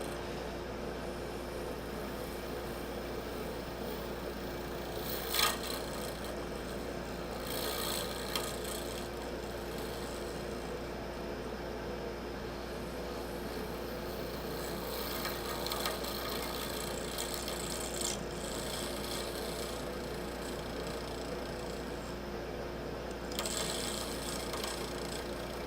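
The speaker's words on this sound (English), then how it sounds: "Crank the lathe speed back up." Wood lathe spinning at about 2,500 rpm while turning a piece with a Fordite inlay, giving a steady mechanical whir with occasional brief scraping bursts from the tool, fairly close and continuous throughout.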